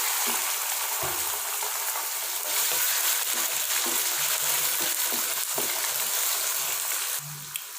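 Steady, loud sizzling as chicken fries with golden onions in a pan, with occasional scrapes and stirring clanks, close up and continuous with no voices.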